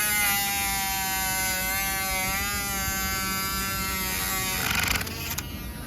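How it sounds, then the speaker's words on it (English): Power tool grinding down plastic mounts on an Onyx shorty fender, a steady high whining buzz that holds for several seconds close to the listener, then wavers and breaks up briefly near the end before settling again. "you're gonna wanna grind down the back ones too"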